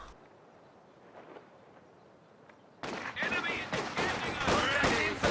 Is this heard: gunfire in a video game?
yes